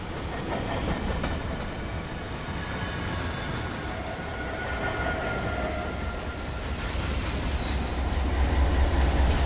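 A 15,000-ton freight train rolls steadily on Tehachapi Loop in Run 8 Train Simulator, its deep continuous rumble of wheels and cars broken by thin wheel squeal, swelling louder toward the end, with no talk.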